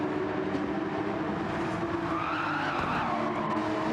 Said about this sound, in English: We've got a squealing from Jabba, sliding it through Ram Hill Bend